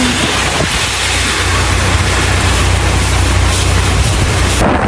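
Strong typhoon wind roars steadily throughout, a loud broadband rush with deep low rumble, gusting without pause and no voices.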